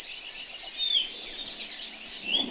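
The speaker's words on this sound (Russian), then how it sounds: "Птички везде поют." Small birds chirp and tweet in scattered, thin calls from a moderate distance at first light in the Ural taiga. The calls sound soft against a quiet outdoor background, and no one speaks.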